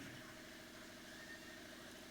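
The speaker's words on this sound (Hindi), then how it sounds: "ये देखिए साइड में जनरेटर भी चल रहा है" A generator runs steadily close by, a low continuous mechanical drone with a faint rhythmic engine pulse, holding even throughout.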